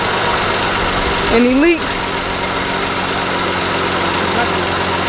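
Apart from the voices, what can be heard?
car engine running and idling after repair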